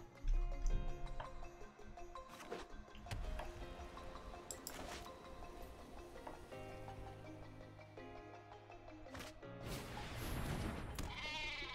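A goat card in a Magic: The Gathering digital game bleats briefly amid layered game music and interface chimes, moderately loud and close, with no talking.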